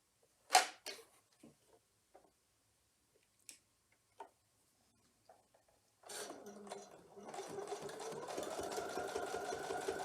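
A sewing machine runs steadily for the last few seconds, joining double wedding ring quilt block pieces into an arc. It starts after some quiet handling clicks and an early sharp knock, then keeps a close, continuous whirring rhythm.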